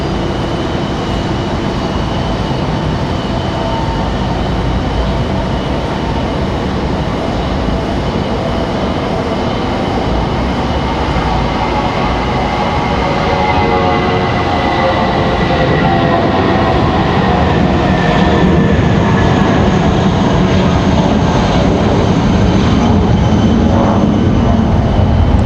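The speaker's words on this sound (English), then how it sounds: "Looks like that A319 about to get a move on here, that American Airlines." An American Airlines Airbus A319 taking off at Raleigh-Durham International, a loud continuous engine roar building and rising in pitch as it accelerates, with a whine sweeping upward over a broad rumble.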